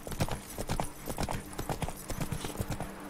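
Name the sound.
horse Roach galloping in The Witcher 3 video game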